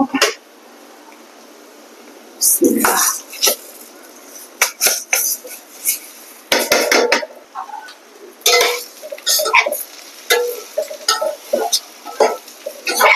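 Rice is tipped into a pot of fried onions and stirred. Loud, close bursts of scraping and clattering against the pot come in irregular runs, with short quiet gaps between them.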